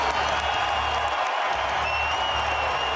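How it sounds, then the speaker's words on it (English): At the 2003 NBA All-Star Game, a basketball arena crowd cheers and applauds Michael Jordan's basket, a steady roar of clapping and whoops held at an even level for three seconds. "And the crowd responds."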